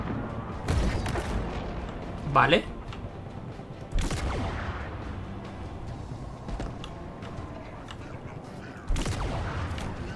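A mortar-like weapon fires a few times in the video game Halo Infinite, giving heavy booming blasts with a rising whoosh, spaced several seconds apart over steady game noise, with a brief spoken word.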